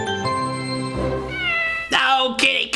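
Cat meowing in the MTM production logo, a drawn-out, wavering meow followed by two shorter, higher meows near the end, loud and alone.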